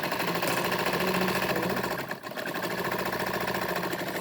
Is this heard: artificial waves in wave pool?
no